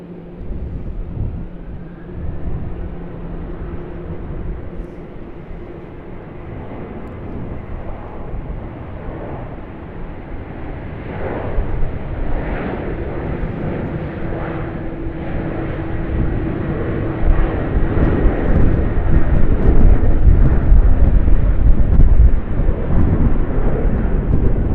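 Aircraft taking off at Sydney Airport, a heavy roaring engine rumble heard from the ground that builds steadily and grows louder over about twenty-five seconds, with no talking.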